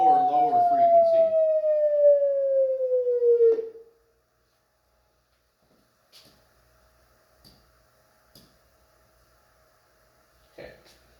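A single loud siren tone slides steadily downward in pitch as the source moves away, then cuts off, leaving near silence with a few faint clicks and taps.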